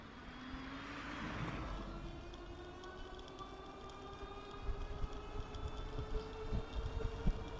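A Velotric Fold 1 Plus folding e-bike motor under throttle toward 20 mph makes a faint electric whine that climbs steadily in pitch, over rumbling road and wind noise with no voices.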